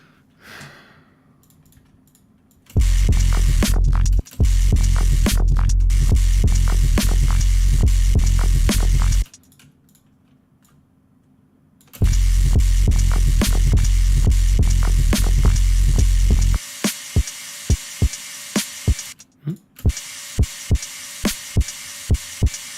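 A DC pop acting as a sidechain in an electronic mix, with a noise layer added, makes a pumping low hum broken by regular sharp pops. It drops out twice, then ends in a run of isolated pops.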